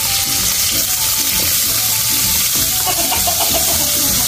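Tomato hits hot oil in a pan for a paiche stew and sets off a loud, dense, continuous sizzle with crackling spatter that swells slightly near the end.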